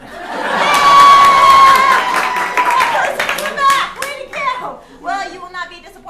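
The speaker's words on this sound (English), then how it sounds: "Clap now." An audience at a teen showcase claps and cheers, with loud whoops and shouting voices swelling early and then thinning into scattered claps and calls.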